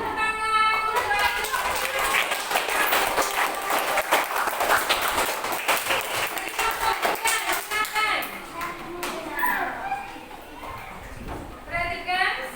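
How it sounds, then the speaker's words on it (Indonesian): Students in a classroom clap together, a loose, scattered round of applause with mixed voices and chatter over it, fading and breaking up toward the end. "kasih tepuk tangan untuk"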